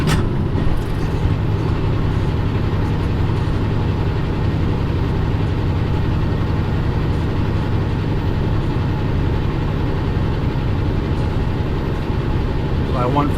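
A heavy truck engine laboring uphill while shifting down from ninth to eighth gear, a deep, steady, loud drone heard from inside the cab for the whole stretch.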